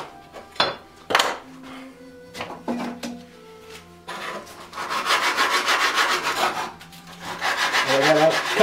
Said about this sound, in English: probably sand this down